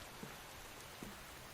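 Steady rain falling in the survival video game The Infected, a soft continuous hiss with a couple of faint drop taps, quiet and without voices.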